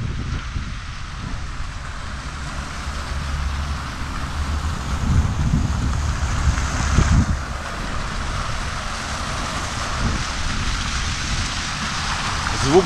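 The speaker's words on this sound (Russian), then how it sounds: "Вода шумит." A city-square water fountain near a theater in Mariupol splashes in a steady, dense wash, with low wind rumble and the faint sound of a crowd around it.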